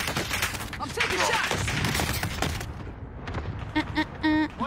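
Video game gunfire crackles in rapid bursts and volleys, loud and dense for a few seconds, then sparse shots and chiming effects, with a voice briefly heard under it.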